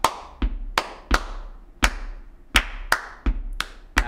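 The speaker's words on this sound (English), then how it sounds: "Just clap." A single person's hands clapping out a fiddle tune rhythm, about a dozen sharp, close claps in an uneven pattern with quiet gaps between them.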